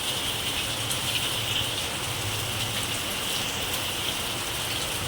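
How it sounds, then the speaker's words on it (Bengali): Steady, dense rain falls outdoors in a constant hiss of drops striking surfaces, even and unbroken throughout with no voices. "ভালো হচ্ছে বৃষ্টিটা"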